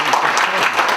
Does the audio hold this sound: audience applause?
yes